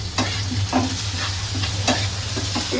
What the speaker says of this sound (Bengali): ভাজার পর শাকটাকে সুন্দর করে দিয়ে নাড়াচাড়া দিয়ে নামাবো।